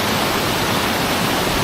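Holme Force waterfall in the Lake District, a steady, loud, close rush of falling water with dense broadband hiss filling the whole moment evenly, no voices and no breaks in the roar.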